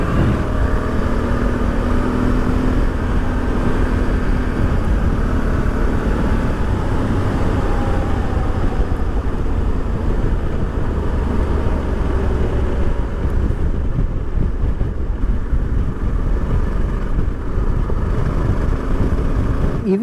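A Honda Africa Twin adventure motorcycle rides over gravel on an off-road tire, its engine droning steadily with continuous wind and crunching road noise, loud and close throughout without speech.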